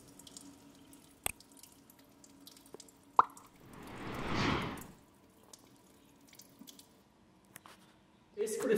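Water drains from the internal reservoir of an Electrolux water purifier, a soft swelling gush in the middle framed by scattered drips and clicks, quiet overall, with a voice speaking at moments.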